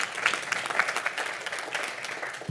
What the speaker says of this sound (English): Yay, yes, you can clap.